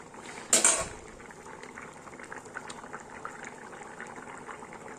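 Thin fish curry simmering in a pot on the stove: a steady, soft bubbling that runs throughout, with one brief louder clatter near the start and no talking.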